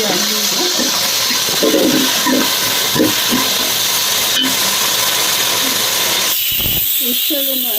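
A mixer grinder whirs steadily while finely grinding masala paste with turmeric and salt, a loud continuous motorized hiss that cuts off near the end, with a person talking over it.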